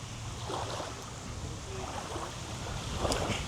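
Steady, rushing wind buffets the microphone on a fishing trip, with a low rumble underneath and faint water sounds, and no voices.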